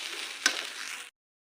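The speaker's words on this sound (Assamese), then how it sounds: "ভাতকেইটা ভাজি পেলাওঁ" Rice fries in a pan with a steady, close sizzle and crackle, briefly interrupted by one sharp stirring knock before cutting off abruptly into silence.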